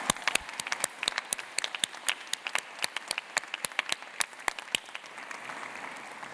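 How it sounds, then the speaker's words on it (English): Graduation convocation audience clapping for families and friends: scattered, fairly sparse individual claps from a modest crowd, steady for several seconds and thinning toward the end. "could I invite our graduates to join us in a big round of applause"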